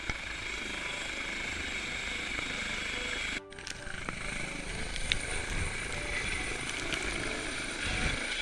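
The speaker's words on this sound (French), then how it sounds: "l'hélicoptère du SAMU revient dans la station des jets pour venir chercher le deuxième médecin" SAMU rescue helicopter arriving at the Les Gets ski station produces a steady, loud rotor and turbine roar with faint mechanical clatter, continuing throughout apart from one brief dropout.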